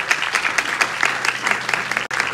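Audience applause fills a nursing capping ceremony at Inter Arecibo in 2024: dense, steady clapping from a large crowd that carries without a break, with only a brief dip near the end.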